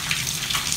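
Tap water pours into a tub holding Orbeez water beads, a close, steady gushing splash lasting under a second with no voices.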